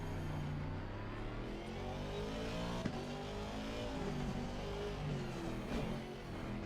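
A race car engine drones and revs steadily in a sim racing game at Imola, a continuous loud tonal hum with gear-change shifts in pitch, no talking.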